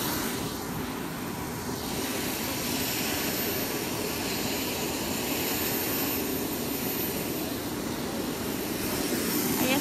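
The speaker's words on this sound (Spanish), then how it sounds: "Ahí está, a punto de despegar el helicóptero." A helicopter carrying a state governor readies for takeoff during flood coverage, its engine and rotor making a loud, steady, broadband roar with no break for the whole stretch.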